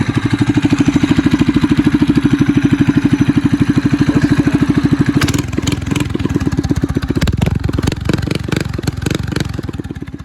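A go-kart engine fitted with a stage 1 performance kit runs close and loud, a steady rapid idle thumping that turns rougher and more uneven partway through, with revving bursts toward the end.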